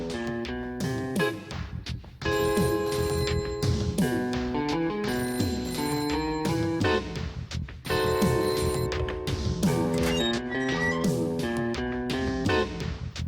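A telephone rings insistently in an office setting, its bright repeated trills coming in loud bursts separated by brief gaps, with no talking over it.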